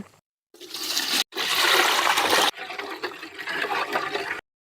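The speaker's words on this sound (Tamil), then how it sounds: "கரைச்சி வச்சிருக்கிற புளி தண்ணியை சேர்த்துக்குவோங்க" Tamarind water pours into a pot of rock fish curry, a loud splashing gush that runs in several bursts separated by brief silent cuts.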